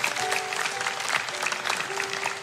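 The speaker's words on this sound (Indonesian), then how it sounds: "kasih tepuk tangan untuk Tuhan" Congregation clapping in praise during a church service, a brief burst of crowd applause with faint sustained tones from instruments or a held note beneath it.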